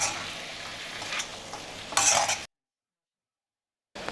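Pepper mutton roasts in a pan with steady sizzling and a spoon stirring through it, a brief louder scrape near the middle, then a sudden silence before the sizzle returns.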